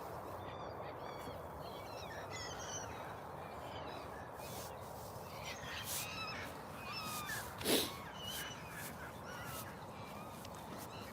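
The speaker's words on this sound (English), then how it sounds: "Well, the gulls are providing most of the action today." Gulls call repeatedly over a steady outdoor wash of background noise, the squawks faint to moderate and scattered, with one louder cry standing out briefly.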